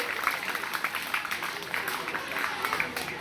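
Steady crowd applause at a government secondary school inauguration ceremony in Kishanpura, a dense continuous patter of many hands clapping to welcome the local MLA, moderately loud with a faint voice underneath.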